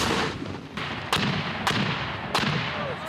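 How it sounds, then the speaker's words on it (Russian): Rifle shots crack out at a military shooting range, three loud single reports spaced about a second apart over steady outdoor background noise. "В первую очередь бойцы занялись пристрелкой полученного оружия, после чего перешли к стрельбам на точность и скорость."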